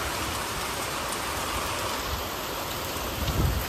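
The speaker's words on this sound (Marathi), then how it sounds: "अचानक भयानक पाऊस पडलेला आहे" Sudden, unseasonal torrential rain pours down at night as a loud, steady, dense roar that stays unbroken throughout.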